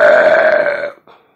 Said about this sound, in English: She burped so loud, it sounded like a tugboat.